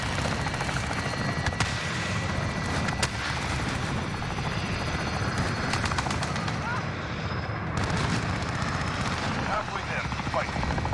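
Helicopter rotor thumping steadily through a Call of Duty multiplayer match on the Rust map, loud and continuous, with bursts of gunfire and combat noise mixed in and a voice talking over it.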